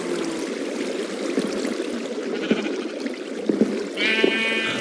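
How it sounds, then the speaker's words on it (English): Sheep bleating in the Minecraft video game, a couple of short bleats in the last second over a steady background of ambient game noise and running water, with faint clicks earlier. "A sheep."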